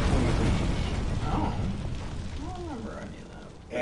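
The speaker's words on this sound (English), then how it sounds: "See, in three, the whole hospital blows." A hospital blowing up in the video game Resident Evil 3 Remake, a loud sustained rumbling blast that rolls on for several seconds with faint voices over it.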